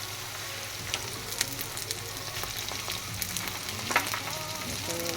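Spices fry in hot oil for a raw jujube pickle, giving a soft, steady crackling sizzle with faint scattered pops and light stirring clinks, fairly quiet and close, with no talking.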